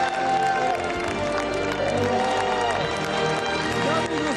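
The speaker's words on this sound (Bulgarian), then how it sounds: "Силни аплодисменти!" Studio audience applauding loudly on a Bulgarian 'Deal or No Deal' game show, a thick, sustained roar of clapping mixed with music and a voice over it, staying loud and even throughout.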